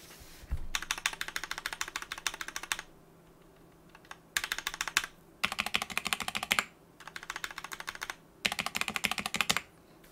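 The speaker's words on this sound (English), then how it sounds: "this enter key, with Durock V2s by the way, just letting you know, sounds worse than the enter key on my Polaris 75." Typing on a mechanical keyboard with Durock V2 switches and plate-mount stabilizers: bursts of rapid, crisp clacks come in several runs separated by short pauses, close and fairly quiet, with no voice.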